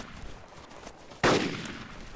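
A single sharp, loud burst of gunfire in the ARMA II DayZero mod, cracking close by after a stretch of quiet background and trailing off in a brief echo.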